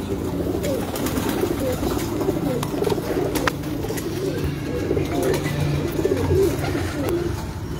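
Teddy pigeons coo softly and repeatedly amid a low, steady background murmur on a rooftop, with no voices over them.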